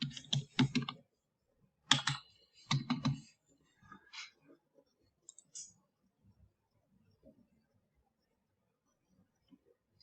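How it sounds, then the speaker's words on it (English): Numbers tapped on a computer keyboard in a few quick clustered bursts of close, crisp key clicks, then scattered single taps fading into near silence. "I'm just typing numbers for no reason."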